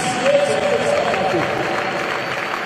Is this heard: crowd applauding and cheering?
yes